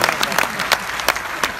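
An audience at a Hindi poetry recitation claps together in brief, steady applause, the claps dense and close.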